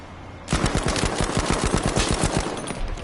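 Machine gun fire in the Battlefield 5 video game, a loud rapid burst of automatic shots starting abruptly and hammering on steadily, close and dominant.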